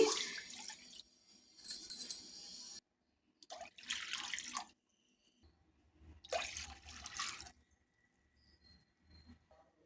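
Water poured into a thick pan in several separate splashy bursts, each lasting a second or two with quiet gaps between, close and moderately loud.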